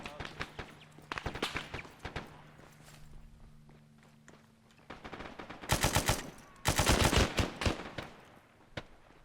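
Gunfire in the military shooter Arma 3 during a multiplayer operation: scattered single shots early on, then two dense bursts of rapid automatic fire at close range, loud and sharp.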